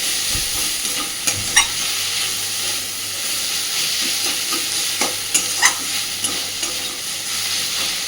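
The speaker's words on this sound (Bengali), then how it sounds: "এইভাবে খুন্তি দিয়ে দিয়ে ঘেটে ঘেটে দেবো, তাতে করে খুব সুন্দরভাবে চিচিঙ্গাটা মিশে যাবে" A spatula stirs snake gourd frying with egg in a pan: a steady close sizzle broken by sharp scraping clicks, with no voices.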